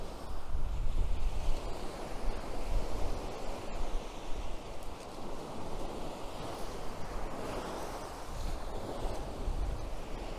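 Sea waves wash steadily onto the beach at Mersin, Turkey, a continuous rushing surf with wind buffeting the microphone and no voices.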